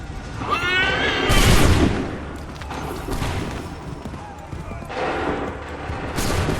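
Musket volley gunfire in Assassin's Creed 3: several loud cracking blasts from a line of soldiers, repeated in bursts over a battlefield din, with a horse whinnying and shouted commands mixed in.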